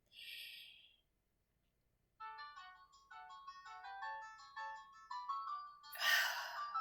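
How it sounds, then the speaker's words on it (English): A mobile phone plays a melodic electronic ringtone, a run of bright tones that starts after a short pause and carries on steadily. A brief gasp-like noise comes before it, and a burst of noise cuts in near the end. "It's my phone ringing."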